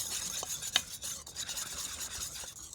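A whisk stirs icing sugar into tart dough in a bowl, giving a steady scraping, rubbing texture with occasional light clinks, close and continuous with no talk.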